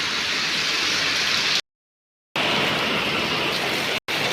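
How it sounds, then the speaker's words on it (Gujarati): Steady, heavy thunderstorm rain pouring down close by in a village, a dense hiss broken by two abrupt silent gaps. "પાછો વરસાદ ચાલુ થયો"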